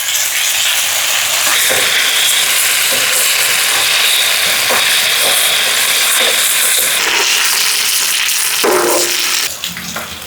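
Beef tawa curry stir-frying on a hot flat tawa with curry leaves scattered in, a loud, steady hiss and sizzle running throughout with a few brief scraping stirs near the end.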